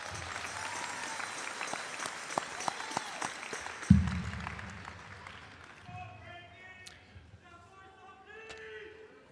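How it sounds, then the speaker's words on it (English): Applause from the audience at a high school commencement ceremony fills the hall with a dense, moderately loud clatter of clapping. A thud cuts in midway, the clapping then fades, and a voice begins speaking over the last of it. "A round of applause for them."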